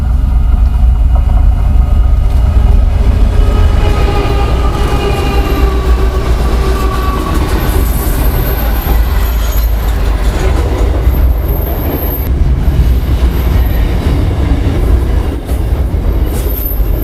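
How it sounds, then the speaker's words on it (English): The Ghan passenger train passes beside the track at Lake Hart, a loud, continuous rumble of railcars with rhythmic wheel clatter and occasional high wheel squeal, steady throughout with no talk. "This is the Ghan that we passed about 30 k's back"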